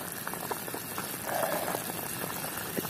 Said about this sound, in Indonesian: Wah, sudah sangat mendidih, ini udah yakin sudah masak.